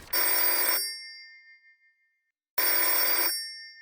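A telephone bell rings twice, each a bright metallic trill lasting under a second, separated by a pause of silence.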